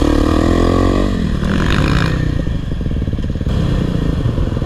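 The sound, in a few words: dirt bike engine revving for a wheelie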